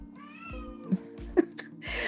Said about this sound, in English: I gotta let that cat out.